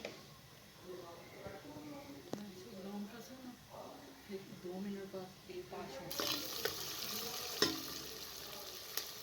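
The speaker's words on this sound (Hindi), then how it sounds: "अब प्रेशर कुकर में हाफ कप कुकिंग ऑयल शामिल करके प्याज को मैंने डाल दिया है।" Onions sizzle and crackle softly in half a cup of hot cooking oil in a pressure cooker, with occasional stirring clinks and someone speaking over the cooking.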